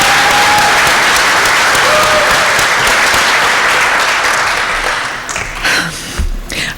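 A crowd at a community learning center graduation and awards ceremony in Cambridge applauds scholarship winners: sustained, dense clapping that holds steady for several seconds, then thins and fades out toward the end.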